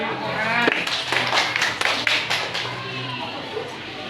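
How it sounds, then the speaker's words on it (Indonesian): Schoolchildren clap in a classroom during a lesson on shapes, a sustained burst of fairly loud hand claps lasting several seconds, mixed with children's voices and chatter. "Ya, beri tepuk tangan."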